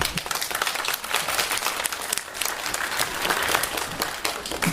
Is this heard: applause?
yes